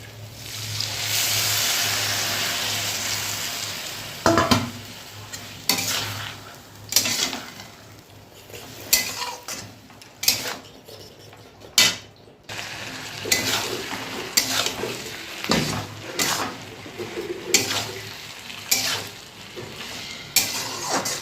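Small chuno fish curry being stirred in a pan, with a thickened flour-and-water mixture added. Repeated scraping strokes and clinks of the utensil against the pan ring out over a steady sizzle, close and fairly loud, with no talk.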